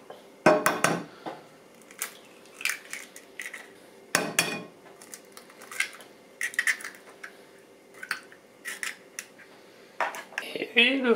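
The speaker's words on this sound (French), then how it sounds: "dans un saladier, on va mélanger le sucre, hop là, les œufs" Sugar and eggs are mixed in a mixing bowl, giving a string of sharp clinks, taps and scrapes against the bowl at irregular intervals, close and moderately loud, with someone speaking in between.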